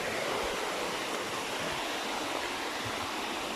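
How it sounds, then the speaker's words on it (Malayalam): Stream water flows steadily beside rubber plantations on the way to a waterfall in Konni, a constant broadband rush that fills the whole stretch without pause. "അതിനടുക്കൂടെയാണ് വെള്ളം ഒഴുകുന്നത്"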